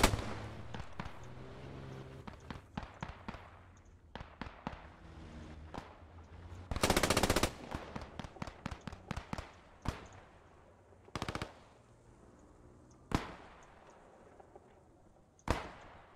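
Gunfire in the WWII shooter Post Scriptum: sharp single shots and brief bursts crack at irregular intervals, some close and loud, others fainter and more distant, with a longer rapid burst partway through.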